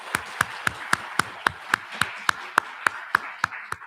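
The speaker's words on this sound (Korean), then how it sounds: "박수로 축복하겠습니다" A church congregation on Palm Sunday claps in a steady, unison rhythm, about a dozen crisp, evenly spaced claps over a soft room background, close and fairly loud.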